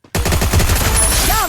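Gunfire in the video game Free Fire, a sudden rapid automatic burst of close shots rattling for over a second, ending in a metallic ringing tail.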